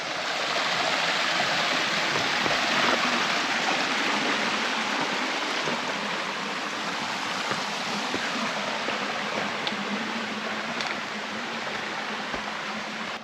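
Slate Run, a rugged forest stream on Pennsylvania's Black Forest Trail, rushes steadily over rocks as a broad, even wash of flowing water, close and continuous with no voices.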